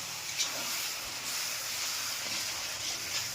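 A continuous, fairly quiet sizzling hiss comes from a pan of frying chopped-tomato masala as a little water is added, with a few soft pops along the way.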